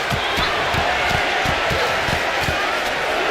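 A roaring arena crowd in the WWE 2K26 wrestling video game keeps up a dense, steady wall of cheering, with faint rhythmic thumps pulsing underneath throughout.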